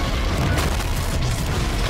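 A heavy explosion from an animated Love, Death and Robots episode, a dense, loud rumbling blast that fills the short moment without a break and with no voices over it.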